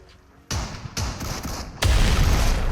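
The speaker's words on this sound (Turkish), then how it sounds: "Bir tane daha bomba attım." Several heavy explosive grenade booms in PUBG Mobile go off in quick succession, loud and close, each leaving a rumbling tail, the last the biggest.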